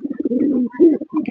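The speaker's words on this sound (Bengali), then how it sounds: "আর এদিকে আমাদের দেশি কবুতরটা দেখুন রাখারাখি করছে খুবই" Local domestic pigeons on a pigeon farm coo in soft, throaty, rolling bursts, close and fairly loud, with short pauses between the warbling phrases and no talk.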